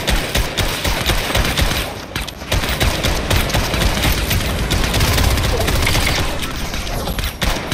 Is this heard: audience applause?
no